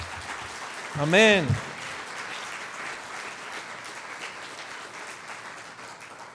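A church congregation applauds steadily at a Spanish-language sermon, broad clapping filling the room throughout, with a brief spoken interjection near the start.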